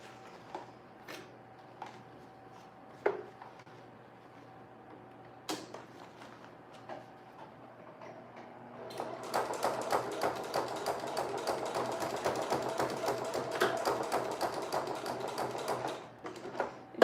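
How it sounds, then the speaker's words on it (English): A sewing machine stitches steadily through several thick layers of summer-dress fabric, preceded by scattered handling clicks and taps, then a dense, continuous mechanical rattle for the last several seconds, close and fairly loud with no talk. "Your sewing machine sounds like it's just struggling a little bit."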